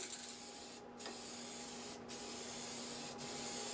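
Pre-catalyzed gloss lacquer is sprayed onto a freshly turned wooden tool handle in three long, steady hissing bursts with brief gaps between, close and loud, with no speech.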